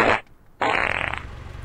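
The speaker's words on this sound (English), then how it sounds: "It was only a fart." A loud fart bursts out at the start, stops for a moment, then comes back as a longer, sputtering blast that slowly trails off, heard alone with no talking over it.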